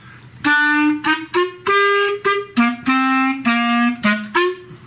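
A clarinet plays a short melody of about ten separate notes, some held and some quick, clear and close with nothing else in the background.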